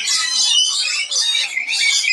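Orange birds calling outdoors close by, a loud run of shrill, rasping squawks in overlapping bursts with short gaps between them.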